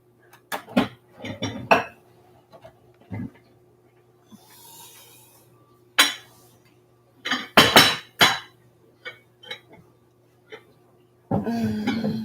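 Ceramic and glass dishes clink and clatter in bursts as a casserole dish is dug out of a kitchen cupboard while cooking on Christmas Eve, with a few coughs and quiet pauses between the knocks.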